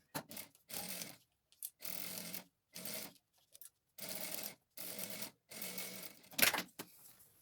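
Sewing machine running a safety seam along the edge of an EVA bag: short stop-start bursts of rapid stitching separated by silent pauses, close but fairly quiet, with a sharp click near the end.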